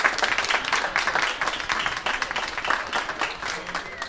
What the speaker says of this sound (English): Let's give Sherry another round of applause.